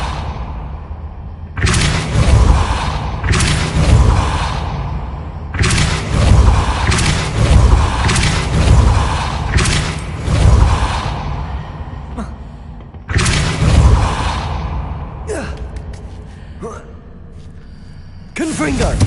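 Depulso force-spell blasts in Hogwarts Legacy on PS5 strike as several loud, booming whooshes in separate bursts, each ringing out for a second or two, with voices heard through the fight.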